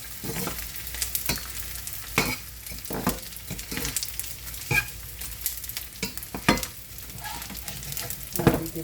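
Close, lively frying of edible gum (gond) in a pan, a constant sizzle punctuated by sharp scraping and tapping strokes as it is stirred.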